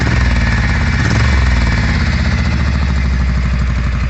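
A Ducati GT motorcycle engine fitted with an upgraded ignition runs steadily with a loud, close, rapid mechanical clatter and throbbing exhaust pulses throughout, with no talking.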